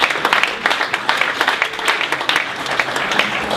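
A live audience at a holiday pitch competition breaks into steady, dense applause that holds at a fairly even level throughout, with the clapping close and full.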